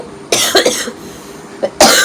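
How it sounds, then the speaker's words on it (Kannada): A few harsh, close coughs in quick bursts, separated by a short pause. "ಕೆಮ್ಮು"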